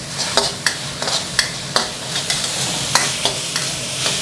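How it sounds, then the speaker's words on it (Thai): A spatula scrapes and tosses preserved eggs with dark soy sauce in a hot wok, giving a run of sharp, irregular clacks over a soft continuous sizzle, with no voices. "นี่ครับแล้วก็ผัดคลุกเคล้าให้ทุกอย่างเข้ากันนะครับ"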